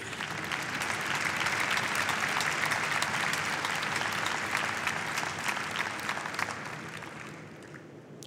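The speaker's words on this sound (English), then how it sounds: "you interrupted it by the applause" Sustained applause from the audience at the 70th anniversary commemoration of the liberation of Auschwitz, many hands clapping evenly in a large space before fading out at the end.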